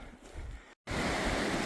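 Broad rushing water of a giant river delta, a steady wash of flow with some wind, briefly cutting out before returning louder and fuller.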